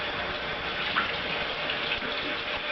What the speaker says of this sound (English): Rinse this out very quickly.